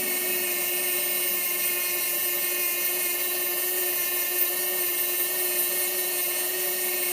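A high-RPM rotary carving tool shaping a freehand tobacco pipe, whining steadily with stacked high tonal harmonics and a faint low rumble, alone and unbroken throughout.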